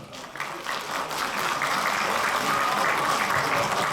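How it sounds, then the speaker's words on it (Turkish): A municipal Earth Day event audience claps for the event staff, a full, sustained round of applause from many people that builds in the first moment and stays loud throughout. "Ben burada emek sarf eden çalışma arkadaşlarıma bir alkış alabilir miyim lütfen?"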